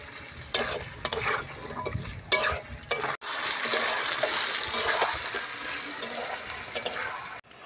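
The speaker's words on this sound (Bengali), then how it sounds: "আমার ম্যারিনেট করা চিকেন এবার আমি তেলের উপরে দিয়ে দিলাম" Marinated chicken laid into hot oil sizzles and spatters steadily, with stirring scrapes and occasional louder clatter, close and continuous with a brief dip partway through.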